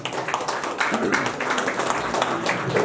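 A crowd claps at a birthday party, a steady wash of many hands heard at moderate distance, with voices and chatter running underneath.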